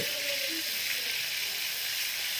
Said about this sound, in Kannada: ಕಡಲೆಬೇಳೆ ಎಲ್ಲ ಸ್ವಲ್ಪ ಫ್ರೈ ಆದ ನಂತರ ಆವಾಗಲೇ ಕಟ್ ಮಾಡಿ ಈರುಳ್ಳಿನ ಹಾಕಿ